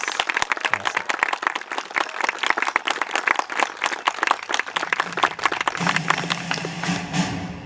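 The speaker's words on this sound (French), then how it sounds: "Je vous demande de leur réserver une nouvelle fois un tonnerre d'applaudissements pour les encourager dans leur performance." Wedding guests applaud during a speech ceremony at a reception, a dense burst of individual claps close by and fairly loud, sustained throughout, with a low voice or murmur creeping in near the end.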